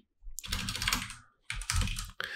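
A project name being typed on a computer keyboard while setting up a project in Premiere: two quick bursts of close, clicky keystrokes separated by a brief pause.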